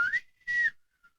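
A person whistles a short three-part low-high-low pattern imitating a creature's call, two clear whistled notes followed by a faint trailing tone.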